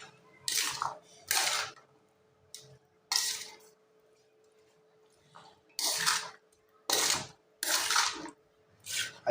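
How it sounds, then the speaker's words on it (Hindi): A spoon scrapes and clinks against a bowl while chana chaat is stirred, sounding in irregular bursts of metallic clatter separated by short quiet pauses, close and moderately loud. "अब हम इसे अच्छे तरीके से मिक्स कर लेंगे।"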